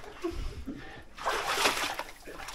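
Legs wading through cold water in an abandoned silver mine, sloshing and splashing close by in uneven surges, with a brief voice mixed in.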